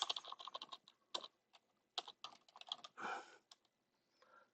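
Keys clatter on a computer keyboard in quick, close bursts of typing with brief pauses between, quiet and with no voices.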